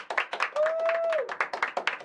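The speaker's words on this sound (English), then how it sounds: "Clap it up for Jaime." A small podcast studio audience claps for a guest in sharp, close, uneven bursts, with a sustained tone and voices mixed in among the claps.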